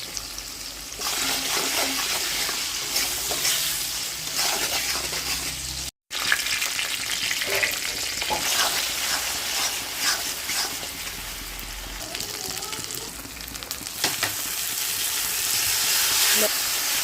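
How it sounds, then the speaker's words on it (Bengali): Long potato strips fry in hot oil seasoned with black cumin seeds and salt, a loud, dense, continuous sizzle heard close up with a few stirring knocks and one brief dropout, no talk. "এবার এটাকে খুব ভালো করে ভেজে নেব, আলুটাকে"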